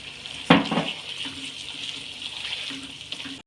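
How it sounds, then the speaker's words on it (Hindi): Chicken frying with spices in a pan for biryani, a steady close sizzle and hiss with a clattering stir near the start and light scraping after. "तमाम मसालों के साथ अब हम चिकन की अच्छे से भुनाई करते हैं।"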